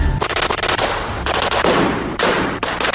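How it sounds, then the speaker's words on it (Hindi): Military guns, an SMG and an M416, fire at a shooting range in loud, close bursts of rapid automatic shots, with short pauses between strings of rounds. "मिलिट्री वाली गन चला दी गाइस हमने, एक SMG थी और एक M416 थी भाई साहब"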